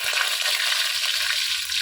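Potato, papaya and eggplant frying with panch phoron in a wok, a close continuous oily sizzle with soft low scraping from stirring.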